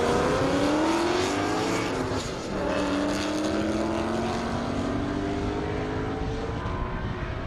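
Loud, continuous roar of powerful drag race car engines, including a Challenger, at an airport airstrip, with pitches sweeping as the cars speed past, dense and overwhelming with no talk.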